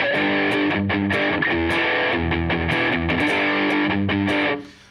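An electric guitar played through a heavy distortion pedal rings out loud and close, with chugging palm-muted chords and sustained notes before cutting off abruptly at the end, no talking.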